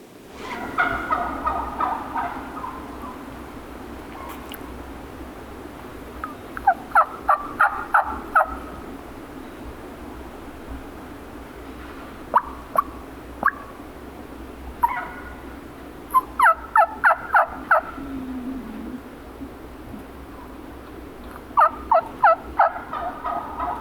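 Wild turkey gobblers gobble in repeated rapid bursts at a moderate distance near a road, separated by quiet stretches of low background noise.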